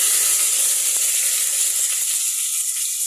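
Bay leaves drop into hot oil and sizzle: a loud, steady, close frying hiss with faint crackles, and no voices.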